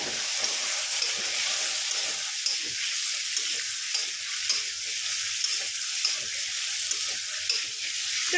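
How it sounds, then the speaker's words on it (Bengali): Potato pieces fry hard over a high gas flame, a steady bright sizzle running unbroken with faint stirring scrapes and small crackles throughout. "দিয়ে ভালো করে গ্যাসটা জোরে দিয়ে ভালো করে আলুটাকে ভেজে নেব।"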